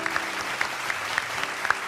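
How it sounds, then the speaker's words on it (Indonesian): Applause from an audience honouring a crew at an Indonesian event, a dense, continuous patter of many hands clapping at steady volume with a few sharper claps standing out and a faint murmur of voices underneath. "kita berikan tepuk tangan dan dedikasi kru yang pertama kali bertugas"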